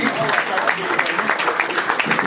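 Steady crowd applause fills a hall at a gathering for a former Nigerian president, a dense continuous patter of many hands lasting a couple of seconds.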